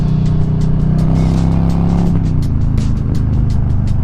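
A 2022 Harley-Davidson Low Rider S motorcycle on a straightaway, its engine droning loud and close with a steady low rumble that shifts pitch slightly midway, overlaid by wind buffeting.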